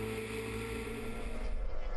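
An SST 120 racing powerboat with a Mercury 2-litre outboard engine drones steadily across calm water, a continuous buzzing roar that swells slightly toward the end.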